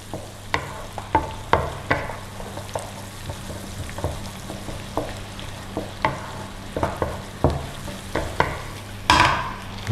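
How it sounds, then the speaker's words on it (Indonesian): Onion and garlic being sautéed for a seafood marinara sauce, a constant sizzle under repeated sharp scrapes and taps of a spatula on the pan, with a louder burst of hiss near the end. "Bawang bombay, bawang putih ya, masukin. Nah ini kita tumis dulu"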